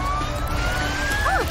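A faint siren tone glides upward beneath a steady low rumble, ending with a couple of quick wavering wails near the end.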